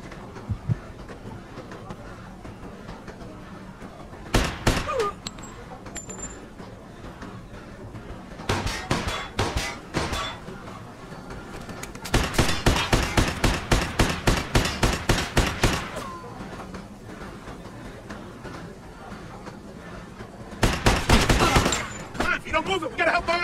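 Gunfire in the Mafia 2 video game, with bursts of rapid automatic shots in several loud clusters separated by quieter pauses, rattling volleys near and sharp.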